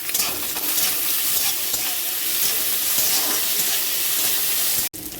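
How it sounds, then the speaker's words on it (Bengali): Onions and chopped shrimp fry together in a pan, giving a steady, loud, close sizzle with faint stirring that runs without a break and cuts off sharply near the end. "একসঙ্গে ভেজে নেব।"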